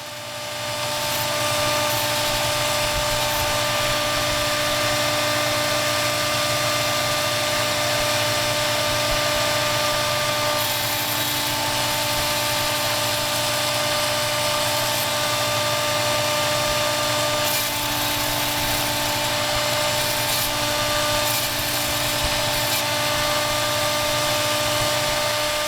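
A rotary tool grinds inside a stainless steel ring, giving a steady, continuous high-pitched whine with a broad gritty hiss that holds loud and unbroken throughout, with no voices.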